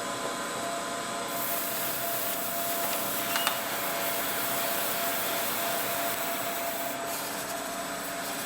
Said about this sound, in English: I'm just finishing up dry sanding with a 320 grit sanding sponge